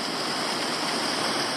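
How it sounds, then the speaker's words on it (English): Steady broadband rush of water pouring at Leeaberra Falls into a deep pool, a constant hiss and roar with no breaks and no voices. "And it's an interestingly shaped waterfall as well."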